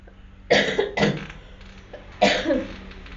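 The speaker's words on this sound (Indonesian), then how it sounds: "Sorry, ibu batuk." Three harsh coughs from a woman ring out close by, two in quick succession and then one more after a short pause.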